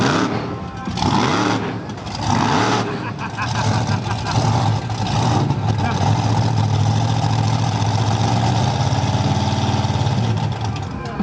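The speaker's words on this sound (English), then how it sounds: "Now this thing is Santa Pod's very own monster truck." Podzilla, the monster truck at Santa Pod's X-Fest show, idles with a heavy, rough engine rumble that swells and settles, while someone talks over it near the start.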